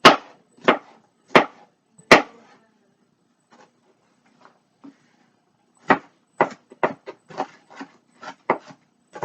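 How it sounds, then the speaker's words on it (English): Knife chopping and finely mincing food on a board for a Spanish dish, sharp isolated taps first, then a pause, then a quicker run of close, crisp knife strikes. "Just want to make them finely minced."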